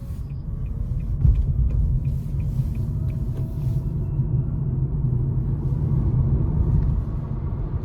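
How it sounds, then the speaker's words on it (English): A 2023 Nissan Leaf S electric car accelerating hard from the driver's seat, with a steady low rumble of road and tire noise and a few faint ticks as the front wheels briefly spin, continuous and close throughout. "I had just a little bit of front wheel spin as I kind of put my foot to the floor"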